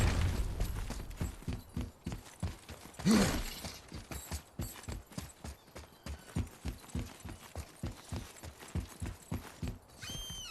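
Horse hooves clip-clopping in God of War, a steady rhythmic trot of close hoofbeats with a snort or whinny near the start and faint creaks of tack.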